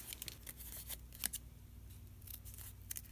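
Scissors snipping paper into small circles and ovals for handmade stencils, quick close crisp cuts in an uneven rhythm against a quiet room.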